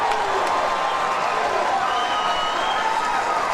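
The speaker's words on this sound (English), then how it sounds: "Listen to that crowd reaction." A partisan karate crowd at a 2004 fight cheers and applauds in a steady, dense roar that fills the arena from start to finish, loud and continuous with no single voice standing out.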